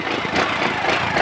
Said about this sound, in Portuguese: Escuta o ronco do só do motor.